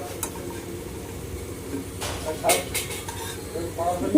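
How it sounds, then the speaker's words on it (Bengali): Naksha bori, lentil dumplings, fry in oil in a home kitchen, a soft, steady sizzle with occasional stirring and scraping sounds, fairly close, and a voice speaking over it. "এই যে এখন আমার নকশা বড়ি ভাজা হচ্ছে সবার জন্য"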